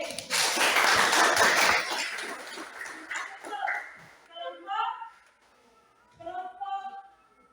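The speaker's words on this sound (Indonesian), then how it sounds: "Tepuk tangan lagi untuk kelompok B." Applause for group B at a school poetry performance, a burst of dense clapping for about two seconds that thins and fades, followed by talking.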